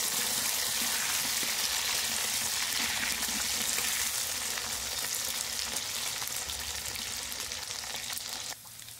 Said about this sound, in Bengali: কচুরমুখীটা ভালো করে ভেজে নিয়েছি। এবার এতে বেগুন আর আলুটা দিয়ে দেবো।